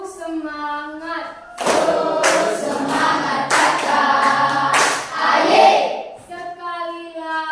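Classroom of students clapping the rhythmic Indonesian 'tepuk semangat' ice-breaker cheer, a loud patterned burst of hand claps lasting a few seconds, with voices chanting along and talk before and after.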